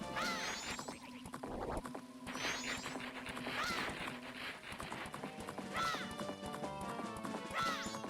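A horse in Zelda: Majora's Mask gallops with rhythmic clip-clopping hoofbeats and gives several whinnying neighs, set against steady game music.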